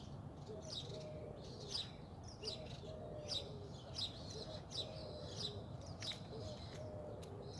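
Baby woodpeckers call from inside their nest in a soft series of faint, repeated chirps and squeaky bursts, heard from close by against quiet outdoor background noise.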